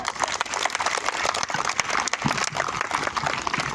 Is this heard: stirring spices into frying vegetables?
no